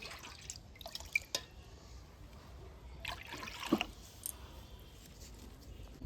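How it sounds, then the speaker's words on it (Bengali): Water measured by the bowl, two bowls, poured into a pan on a lit stove, heard as quiet splashing, dripping and trickling in a few brief bursts with pauses between, no voices. "তাই এই বাটি মেপে প্রথমে কড়াতে দিয়ে দিচ্ছি 2 বাটি জল।"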